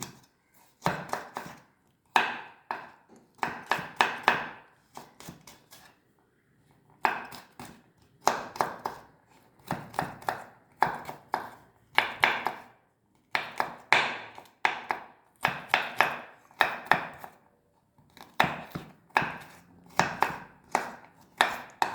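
Knife steadily chopping ginger and garlic on a cutting board for chicken roast, with many close, crisp strikes in quick runs and short pauses between bursts.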